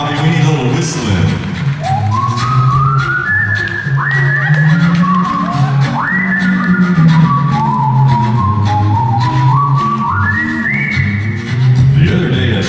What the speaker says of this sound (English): we need a little whistling